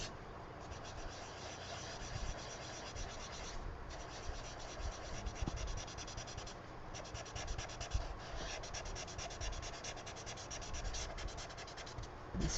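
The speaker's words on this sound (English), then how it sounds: "I'm going to just go with the chisel and just color the whole thing" A chisel-tip marker scratches steadily across the paper of an adult coloring book, making soft, continuous rubbing strokes with brief pauses, quiet and close.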